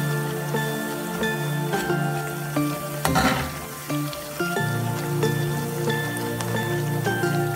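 Sri Lankan thenkulal, a jalebi-style sweet, frying in a pan of hot oil: a dense, bubbling sizzle and crackle that holds steady close by, swelling briefly into a louder burst midway, with a faint tonal hum in the background.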